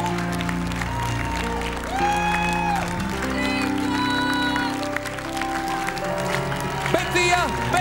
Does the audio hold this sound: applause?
yes